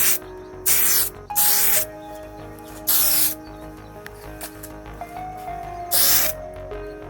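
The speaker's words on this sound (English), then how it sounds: "It seems like this is pretty powerful spray" Short bursts of aerosol spray paint hiss onto a Tamiya model wing, four or five separate blasts of about half a second each, close and loud with quiet gaps between.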